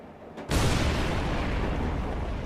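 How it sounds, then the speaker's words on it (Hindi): Explosions from railway tunnel construction in the Shivalik hills: a sudden heavy boom, then a loud, sustained rumbling roar that echoes on without fading. "लगातार विस्फोटों से शिवालिक की पहाड़ियां गूंजने लगी।"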